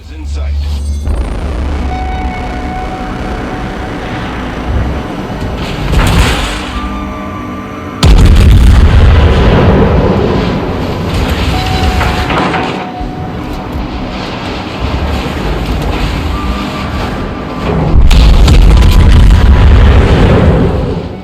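Main guns of the Tier 6 German battleship Bayern firing at the Bismarck in World of Warships, heavy booming salvos that burst loud then rumble, repeating several times over engine and sea noise, with someone talking throughout.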